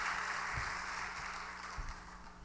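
A church congregation at a Korean Wednesday evening service claps steadily to welcome the pastor, a fairly loud, sustained applause with a few dull thumps and no voices.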